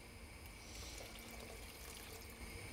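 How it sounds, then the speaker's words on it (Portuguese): A little water is poured into a cooking pot of pre-cooked black beans and tomato, giving a steady, close, continuous trickle with no talking. "vamos completar com um pouquinho de água"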